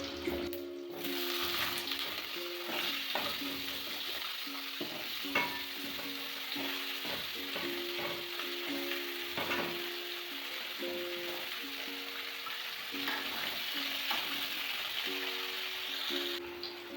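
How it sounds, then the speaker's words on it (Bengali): Potato and pointed gourd fry in hot oil with five-spice seeds in a wok, giving a steady close sizzle broken by scraping stirs, with no talking. "আলু পটলটা ভেজে নেব।"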